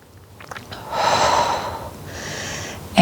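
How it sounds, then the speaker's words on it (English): Deep breathing during a Pilates core exercise: a long, close, airy exhale swelling and fading, followed by a softer, steady inhale, with no talking. "Again, exhale as you lower. Inhale as you lift."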